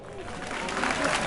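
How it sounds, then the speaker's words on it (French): An audience at a night wake event for a rapper claps in a short, dense burst of applause under a murmuring crowd, steady and moderately loud throughout. "Applaudissez pour les rappeurs."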